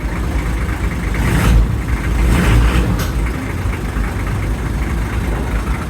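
A 1988 Toyota Land Cruiser 60 Series engine idles nearby in a steady, rough low rumble with a couple of brief louder bursts, and no voices.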